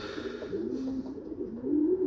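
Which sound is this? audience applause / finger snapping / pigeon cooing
pigeon cooing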